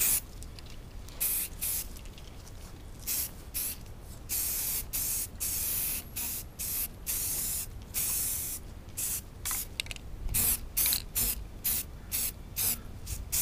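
Spray painting a Corvair tow bar, rapid on-off bursts of aerosol hiss, close and steady, with short gaps between each pass.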